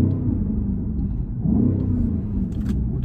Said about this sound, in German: Bin jetzt hier im Sportmodus, im Leerlauf, werde mal Gas geben für euch.